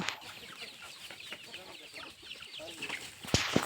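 Soft, scattered clucking from chickens and a rooster on a farm in the background, faint and irregular, with a brief louder rustle near the end.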